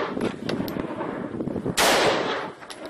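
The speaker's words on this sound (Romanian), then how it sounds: "Tragi, tragi, că d-aia e armă." Gunfire from a weapon: a rapid rattle of automatic shots, then a sharp loud blast that decays over about a second, heard close with no speech.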